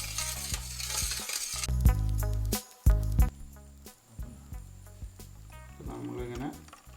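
A thickened, clumpy homemade handwash mixture being stirred: close, wet scraping and swirling strokes in uneven bursts, with a steady tonal background throughout.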